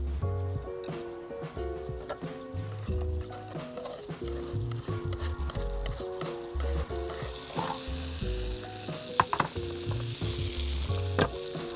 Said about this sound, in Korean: 팬이 달궈지면은 마늘이랑 토마토를 넣을 거예요.